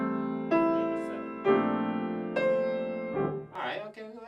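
Several major seventh chords are played on piano, each one ringing out for about a second before the next is struck, with short spoken words at the close.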